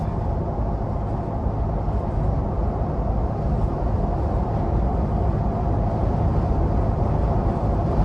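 A 2023 Ford Bronco two-door SUV cruising on the interstate at 70 mph, with a loud, steady, broadband road and wind roar plus low engine rumble that holds constant throughout, no voices.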